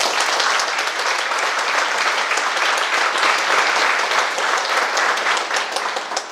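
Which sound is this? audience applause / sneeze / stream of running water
audience applause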